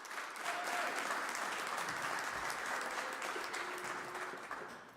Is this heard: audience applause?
yes